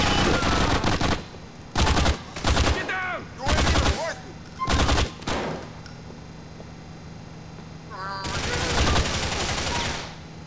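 Gunfight in GTA IV: The Ballad of Gay Tony, with repeated loud bursts of rapid gunfire in a hallway, several sharp volleys spaced apart and a longer sustained burst near the end, with game voices talking between shots.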